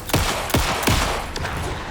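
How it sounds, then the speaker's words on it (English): Gunfire in the video game Alan Wake 2: several loud, sharp shots ring out in quick succession at irregular intervals, each with a short echoing tail, with no voices. "pin him down with gunfire"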